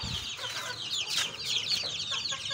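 Backyard chickens kept on a rooftop cluck and chatter softly at close range, several birds overlapping in quick, continuous calls.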